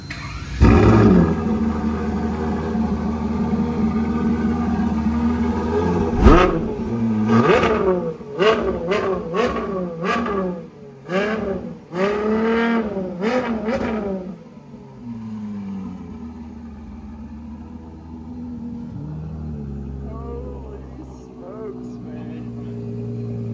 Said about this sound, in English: That is race car.